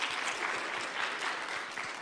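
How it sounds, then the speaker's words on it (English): Audience at a TEDx Youth event applauding, a dense, steady wash of clapping from a sizable crowd that holds at an even level throughout, with no talk over it. "So let's clap it up for Denzel."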